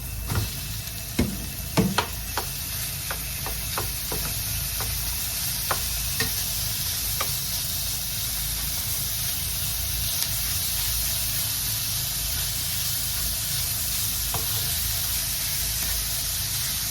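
Meat frying in a pan with garlic for Filipino pancit gisado, a steady sizzle with a few sharp clinks and scrapes of stirring near the start, continuing alone without talk.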